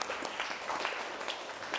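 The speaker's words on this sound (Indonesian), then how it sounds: "kasih tepuk tangan untuk Mbak Nela" A university classroom offers quiet applause for a student, a faint patter of scattered hand claps from a small group lasting under two seconds.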